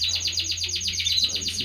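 A canary sings in a breeding cage, a continuous run of rapid, high, bright trills and chirps repeating in quick pulses, close and alone over a steady low hum.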